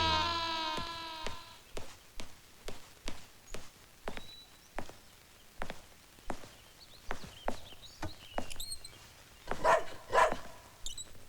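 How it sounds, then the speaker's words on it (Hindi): A dog barks indoors at a house in a steady, regular series of short, fairly faint barks that continue for several seconds, growing slightly busier toward the end. "क्यों भौंक रहा है? घर में कोई दूसरा कुत्ता आया है?"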